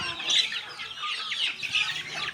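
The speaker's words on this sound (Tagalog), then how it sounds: "So ito nga pala yung mga free-range chickens namin." A small flock of free-range chickens, 1.5 to 3 months old, cluck and murmur softly, a steady low chatter of short calls at moderate distance.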